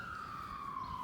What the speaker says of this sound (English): Here comes the po-po or the ambulance, whichever one.